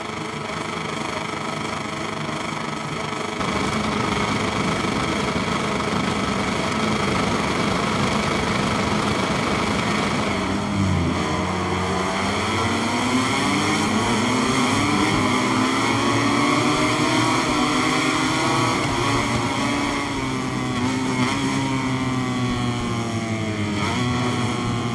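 MotoGP racing motorcycles revving on the starting grid at Sepang in the MotoGP 23 video game, a loud sustained high engine drone that rises and sweeps in pitch as revs climb, with no voices.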